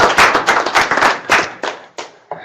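A small lecture audience claps in a short burst of sharp, close hand claps that thin out to a few scattered final claps.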